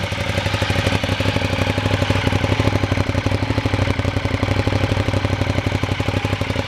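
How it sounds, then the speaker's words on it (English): A motorcycle engine idles steadily with the exhaust baffle in, a deep, rhythmic exhaust burble, constant and close, with no other sounds. "how lovely that exhaust sounds to your ears"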